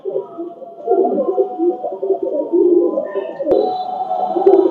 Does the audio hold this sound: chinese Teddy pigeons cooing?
yes